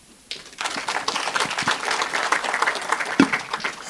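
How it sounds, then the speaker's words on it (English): Applause from the audience at the 76th ECSA-HC health ministers' conference, bursting in after a brief quiet and continuing as brisk, fairly close clapping with distinct individual claps standing out. "Indeed, that deserved a round of applause."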